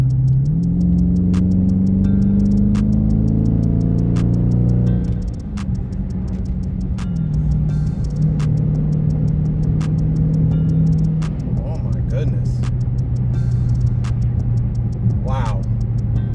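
A 2021 Dodge Charger 392 Scatpack Widebody in track mode, engine droning from the cabin with rising and falling revs and gear changes, a steady ticking sound throughout and occasional talk.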